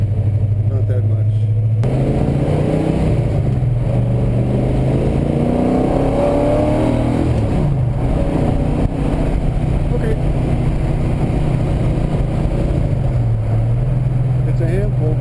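A 1966 Dodge Charger's engine rumbles loud and close, revving up to around 3,500 RPM in swelling pulls with deep low-end drone, with voices talking over the engine.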